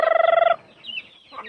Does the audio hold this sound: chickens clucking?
yes